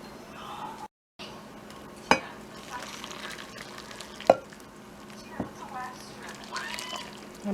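Chicken in orange sauce is tossed in a pan with a slotted spoon, giving a soft continuous sizzle with a few sharp scrapes and clinks of the spoon against the pan.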